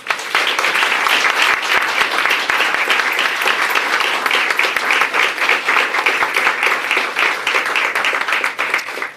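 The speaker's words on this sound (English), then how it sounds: "So now I want you to give each other a round of applause" Students at South Bronx Preparatory give each other a round of applause during a mayoral visit, a brisk, loud burst of many hands clapping with crisp individual claps audible, sustained without a break for several seconds.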